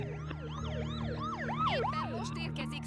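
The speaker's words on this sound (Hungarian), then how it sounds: "Éppen most érkezik szirénázva egy mentőautó." An ambulance siren wails in a rapid up-and-down sweep, growing slightly louder as it approaches, with a low engine rumble underneath, in a movie drama scene.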